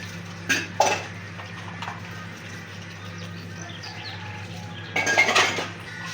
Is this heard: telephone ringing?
no